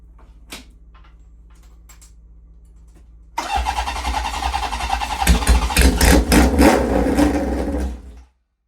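A chopper motorcycle starting with the choke on: a few faint clicks, then the engine catches and runs loudly and close, rough and uneven for several seconds before cutting off abruptly.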